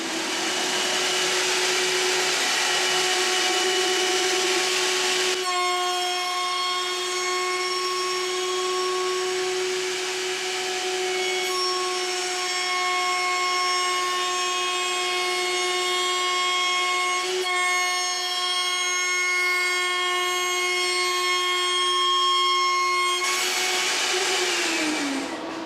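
A lathe cuts a tapered wooden pool cue core, the cutter traveling toward the headstock at a 15 inch per minute feed, giving a steady loud whine with bright sustained tones for about twenty seconds between louder rough starts and stops.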